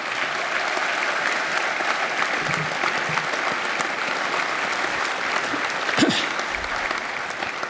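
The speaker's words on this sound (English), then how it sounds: "So I really want to hear big applause for these people who faced real difficulties." Big, steady applause from a large audience at a university graduation ceremony, continuous clapping with a few scattered thumps and shuffles throughout.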